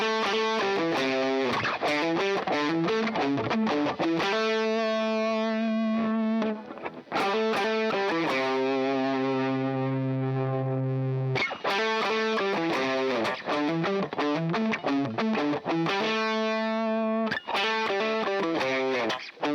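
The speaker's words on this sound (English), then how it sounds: "Now I have 1981, which I'm really enjoying because it's very flexible, but also delivers those high gain Rat tones as well." Electric guitar played through a high-gain Rat-style 1981 distortion pedal, loud and saturated, with choppy rhythmic chords and a few sustained ringing notes, alone without talk.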